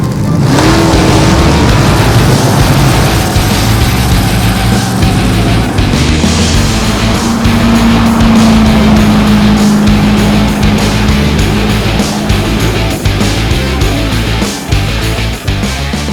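Kia Picanto hatchback being driven, a loud continuous engine drone with road and wind roar close up, a steady tone rising slightly in pitch through the middle, with no talk.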